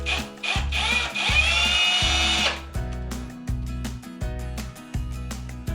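A screw gun backs screws out of a shower drain cover, with a longer whirring run followed by a series of short, sharp bursts close by.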